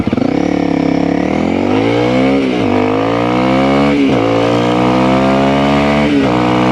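Honda CRF300L motorcycle with a performance ECU, accelerating hard from a stop, loud close engine revving rising through three gear shifts, each marked by a brief dip before the pitch climbs again.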